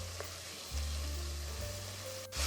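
Ground beef browning in a soup pot, giving a steady, faint sizzle with a low hum underneath and a short scrape near the end.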